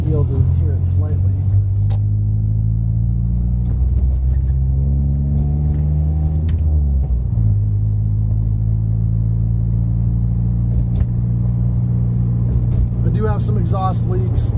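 A turbocharged car engine at 16 psi boost, running rich with exhaust leaks, drones steadily with low harmonic rumble, a rising rev mid-clip, and brief fluttering wastegate bursts near the end, under occasional talk.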